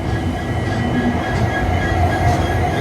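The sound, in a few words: Garib Rath Express train locomotive at Yeshwanthpur station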